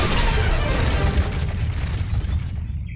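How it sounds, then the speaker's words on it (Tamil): A cartoon explosion of canned food lets out a loud, broad roaring blast that holds steady at first and then trails off over about three seconds, with no other sound. "இது வெடிச்சிருமேடா."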